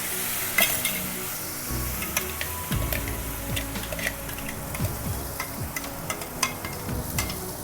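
Green chillies, curry leaves and ginger paste fry in hot oil for rasam, a constant loud sizzle with scraping stirs and small crackles throughout, no voices.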